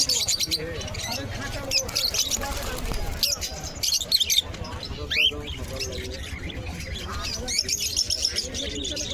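Scattered bird chirps and tweets over a busy, noisy crowd at the Beldanga weekly pigeon market, with voices talking throughout the background.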